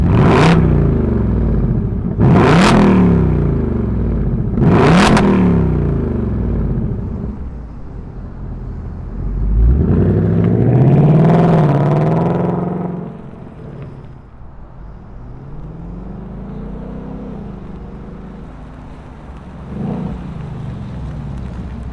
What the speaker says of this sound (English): let's hear if it has that muscle car sound